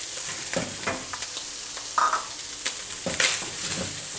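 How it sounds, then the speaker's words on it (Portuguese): Bacon and a link of calabresa sausage fry in a pan, a soft continuous sizzle punctuated by several distinct scrapes and clinks of stirring, with no talking. "Aqui a gente vai refogar bem esse bacon. Deixar ele bem fritinho."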